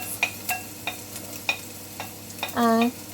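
Ginger, garlic, onions and curry leaves hit hot oil in a pan for a potato curry, giving repeated sharp clicks and scrapes over a low sizzle, ending in a brief tonal clatter of the pan.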